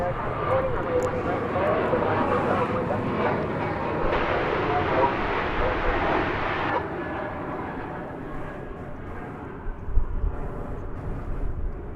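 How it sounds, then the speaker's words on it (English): An airliner arrives at DFW Airport, its broad engine roar steady and moderately loud throughout, with a brief louder burst near the end and speech-like sound mixed in. "as soon as we watch the arrival of this flight"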